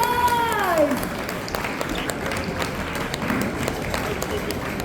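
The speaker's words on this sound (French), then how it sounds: "Allez, on les applaudit." Audience applause at a convention dance show after a Yosakoi performance, steady mid-level clapping spread across a crowd, with a rising whistle-like tone at the start and room noise underneath.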